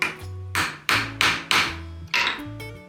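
Six sharp light hammer smacks strike a centered punch to seat an engine check ball, crisp metallic taps with short ringing decays in an irregular rhythm, close and clear with no talk.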